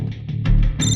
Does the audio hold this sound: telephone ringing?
yes